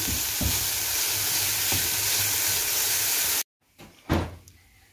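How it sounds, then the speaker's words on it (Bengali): Chopped vegetables and chicken mince are stirred in a kadai, giving a steady close sizzle with scraping strokes, then a sudden cut to near silence followed by a brief clatter. "এটাকে একটু কড়াতে নেড়ে নিচ্ছি।"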